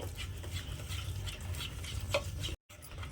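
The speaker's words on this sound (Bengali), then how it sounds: "দুধের মধ্যে ময়দাটা দিয়ে খুব ভালোভাবে মিশিয়ে নিয়েছি" Flour being stirred into milk for an orange cake batter, a soft continuous close scraping and swishing of a spoon in a bowl, fairly quiet, with a brief dropout near the end.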